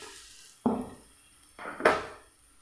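Grated coconut and flattened rice poha are stirred in hot ghee in a pan, giving two or three close scraping strokes with a soft sizzle between them and no voices.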